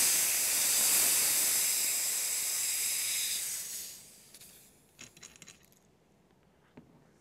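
A Ralston quick test connection self-vents pressure in a loud, steady, close hiss lasting about four seconds, fading out and followed by a few light metallic clinks and taps in near silence.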